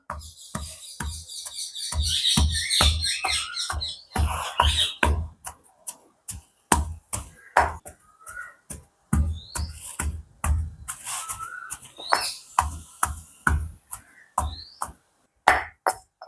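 Dates are pounded by hand for date sambal, giving a long run of short, rhythmic thuds and knocks, fairly close and moderately loud, with birds chirping in the background at times.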